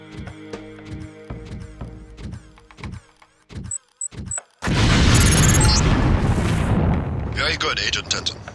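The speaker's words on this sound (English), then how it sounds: "If you aren't close enough, the lamp will fall to the ground and detonate." A LAM mine detonates in the Deus Ex training mission: a loud, sustained blast with a rumbling roar and crackling debris that fades slowly, following a stretch of rhythmic game music and a couple of short clicks.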